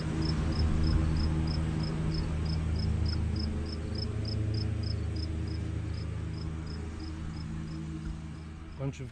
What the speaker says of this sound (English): Bunch of crickets.